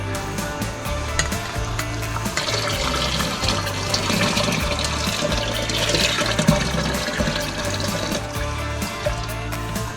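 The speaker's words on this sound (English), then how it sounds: "We pour a litre of water over the top of it." A litre of water is poured over steeping grain for a smoked dark ale (Rauchbier) home brew, a steady splashing, gurgling flow that lasts the whole stretch, with no talking.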